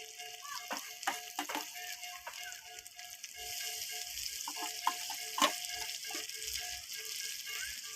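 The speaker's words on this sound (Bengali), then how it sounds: "ততক্ষণ ভাজতে থাকবো দিয়ে দেবো আদা রসুন বাটা দিয়ে দেবো পেঁয়াজ বাটা" Ginger-garlic paste and onion paste frying in a pan for paneer chana masala, with a soft steady sizzle overlaid by rattling, clinking stirring strokes, close up and without talk.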